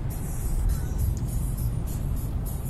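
Steady road and engine rumble inside a car on an autumn road, heard from the driver's seat, continuous and moderately loud with no talk.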